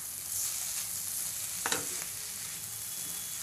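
Egg and potato bhujia with coriander sizzles steadily in a pan while a spoon stirs it, with one brief louder scrape of the utensil and no talking.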